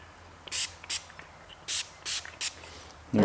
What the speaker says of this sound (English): So first thing we need to do is spray some of this on the swing arm.